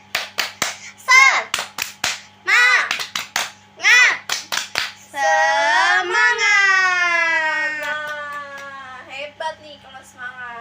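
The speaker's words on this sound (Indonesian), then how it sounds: "Ya, tepuk semangat." Children in a classroom doing a rhythmic spirit clap, sharp grouped claps in patterned bursts interleaved with shouted chanting, then a long loud group chant with scattered claps, all close and lively.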